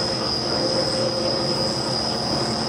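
A Monarch lathe slowly feeds along while turning a part held in a 5C collet block in the chuck. It makes a steady, continuous mechanical whine with a high sustained tone, close by and without talk.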